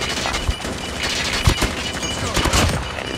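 Rapid, continuous gunfire from Call of Duty Mobile played on an iPhone, loud and close, with overlapping bursts forming a dense fusillade throughout.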